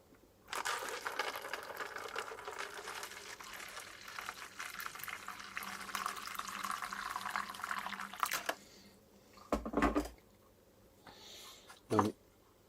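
Water flowing into a container for about eight seconds, a close, steady rushing splash that stops abruptly, followed by a few brief handling knocks.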